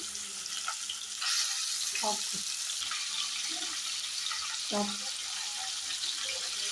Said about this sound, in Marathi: आता मी त्यामध्ये कोळमी टाकणार आहे कारण कोळंबी अगोदर तेलामध्ये भाजून घेणार आहे मी